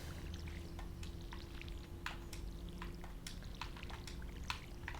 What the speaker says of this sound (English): So we'll get some water on this stuff.